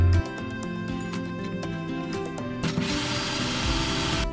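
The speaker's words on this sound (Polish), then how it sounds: "gdzie mam wywiercić dziurki na rurki, czyli wlot powietrza, wylot, cztery otwory mocujące i przewód paliwowy" A power drill bores holes through a camper van floor for mounting a parking heater, with a steady motor whir that turns into a harsher, louder grinding bite partway through, close by and without speech.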